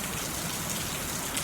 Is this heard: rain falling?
yes